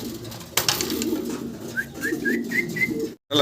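Fancy pigeons on a farm coo and call near the listener, low murmuring coos with a few brief higher whistly notes and a short sharp bump early on.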